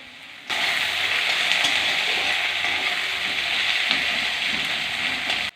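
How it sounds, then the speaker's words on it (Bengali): Chopped onions hit hot oil left from frying fish for a Bengali kaikka fish curry, giving a loud, continuous sizzle that starts abruptly and holds steady for several seconds before cutting off. "মাছ ভাজারই তেলেই আর একটু তেল দিয়ে এর মধ্যে আমি কোচানো পেঁয়াজগুলো দিয়ে দিলাম"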